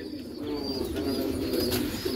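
Black Gujarati pigeons coo softly and steadily nearby, a low rolling murmur with a few brighter chirps above it, and no speech.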